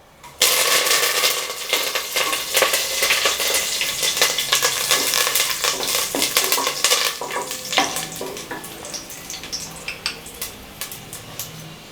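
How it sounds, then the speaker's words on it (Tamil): Spices and curry leaves crackle and sputter in hot oil for a mutton kurma, a loud continuous sizzle with sharp popping bursts and scraping stirs that slowly quiets over twelve seconds. "இப்போ இது எல்லாத்தையுமே எண்ணெயில் போட்டு தாளிச்சிடலாம்"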